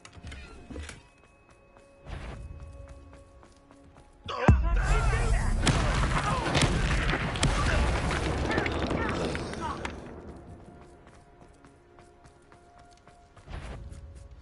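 A sudden loud blast at an exploding encampment in the video game Hogwarts Legacy, followed by several seconds of roaring, crackling rumble that slowly fades into quieter ambience.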